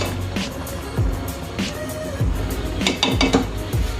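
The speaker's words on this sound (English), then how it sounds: "So after I drain the pasta, I can start plating." Cooked pasta drained from a metal pot for beef stroganoff, with clattering knocks of the pot and thuds against a sink, plus a soft wash of pouring water throughout, close and moderately loud.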